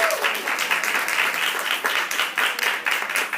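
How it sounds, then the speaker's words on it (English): Audience applause fills a keynote session at an education leadership summit, a dense, steady wash of many hands clapping close by, sustained throughout without a break. "Give her a round of applause, please."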